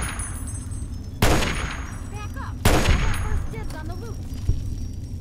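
Pistol shots ring out in the video game Fallout, three sharp reports spaced about a second apart, each followed by a fading echo.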